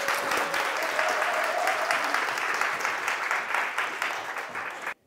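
An audience at a parenting talk concert applauds steadily for about five seconds, a dense wash of clapping that holds loud and then stops abruptly.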